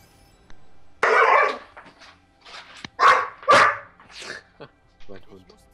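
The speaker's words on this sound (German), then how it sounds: "Mein Hund." A dog in the video game Diablo 3 gives several short, loud barks in separate bursts, with brief pauses between them, over a quiet game background.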